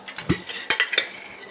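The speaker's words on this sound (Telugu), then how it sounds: "కుక్కర్ పెట్టి" Pressure cooker being set down on a kitchen stove: a few sharp metallic clanks and knocks against the burner, with lighter rattles in between, close and fairly quiet.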